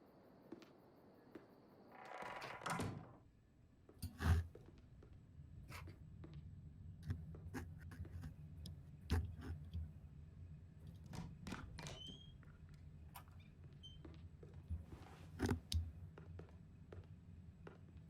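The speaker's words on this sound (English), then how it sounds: "I moved my mic a bit" A desk microphone shifts during a game stream, giving low rubbing rumble and scattered clicks and taps that run steadily under faint background noise.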